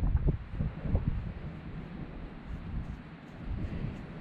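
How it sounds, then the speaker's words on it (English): Wind buffets a microphone outdoors during metal detecting, a low rumbling gusty roar that swells and eases throughout, with no voices. "this wind's certainly not helping matters"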